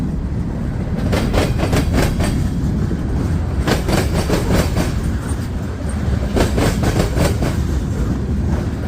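A heavy freight train of loaded gondolas with a single locomotive rolls past close by, picking up speed, its wheels beating a loud rhythmic clickety-clack over rail joints above a deep rumble.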